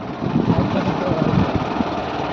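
A motorcycle engine hums steadily at riding speed beside the sandy, dried bed of the Brahmaputra, a close, continuous drone with wind rumble and a voice speaking over it.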